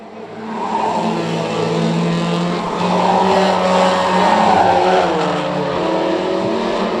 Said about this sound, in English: That's the main interest in tonight's Pro Stock final, is this battle for second, because Callum Elliott's dropped away from